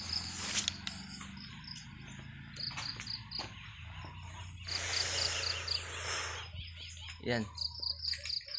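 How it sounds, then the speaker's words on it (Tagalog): Birds chirp and sing around a rural farmhouse, with repeated bright calls and trills over a steady insect-like drone and a low hum, while a person speaks briefly and quietly. "Grabe din to humuni mga birds."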